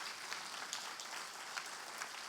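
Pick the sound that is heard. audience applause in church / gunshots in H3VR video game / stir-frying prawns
audience applause in church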